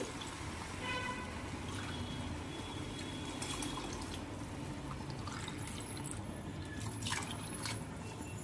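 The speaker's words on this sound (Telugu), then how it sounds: "వాటర్ యాడ్ చేసుకుంటున్నాం" Water is poured from a cup into a pot of mushroom biryani rice, making a steady, faint rushing pour that runs for several seconds with no talking.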